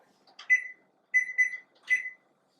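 An oven timer being set to one hour while zucchini bread bakes at 325 gives short electronic beeps in three quick bursts, close and clear in an otherwise quiet kitchen.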